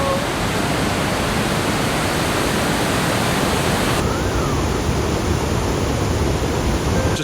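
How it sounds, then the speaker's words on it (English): Iguazu Falls roars with a dense, unbroken wash of falling water that stays loud and constant throughout. "Just look how powerful the water is here"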